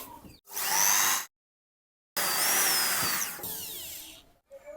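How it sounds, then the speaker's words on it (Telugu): Power drill driving screws into a bike trolley frame, two loud whirring bursts separated by a short silence, the second run winding down, close up with no talking. "ఇప్పుడు స్క్రూలు వేసేద్దాం"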